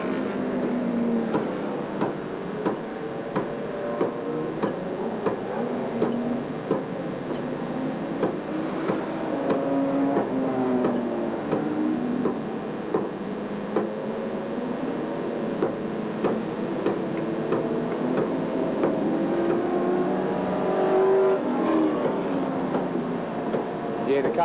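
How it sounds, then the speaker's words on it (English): Race cars circulating around a dirt speedway track during a 100-lap race in 1985, a continuous droning engine roar with shifting pitch that holds steady throughout, with no break in the noise. "Yeah, the cars are just circulating."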